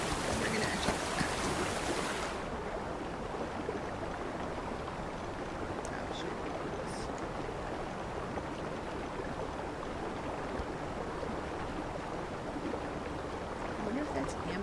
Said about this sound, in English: the water is really loud